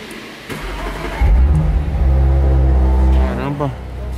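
An Audi S5 engine cranks and fires at about half a second, then settles into a loud, steady idle with a rising rev near the end, heard close up with voices over it.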